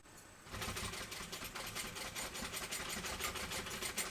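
A sewing machine stitches fabric for a baby sling, starting abruptly after a short quiet moment and then running as a fast, steady mechanical whir with rapid needle ticks, close and alone.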